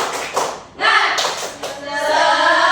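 A school class claps in short rhythmic bursts mixed with loudly shouted chants of "semangat," close, like a class cheering together.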